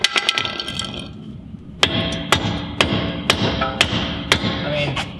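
Sharp metallic hammer strikes on the axle of a lifted Volkswagen Golf Alltrack MK7 ring out, a quick flurry at first, then a steady series of single blows about half a second apart.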